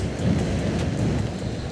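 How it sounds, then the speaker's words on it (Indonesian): Steady heavy rain with a low rumble of thunder in Banyumas, Indonesia, during a wet motorcycle tour from Malang to Jakarta, a dense constant roar with no talk. "Banyumas hujan."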